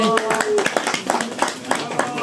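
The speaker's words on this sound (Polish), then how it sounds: "Brawo, klaszczemy" A crowd of volunteers at a nature reserve cleanup gathering claps for a school group from Cieszyn, a brisk run of sharp, fairly close claps, with voices talking over them.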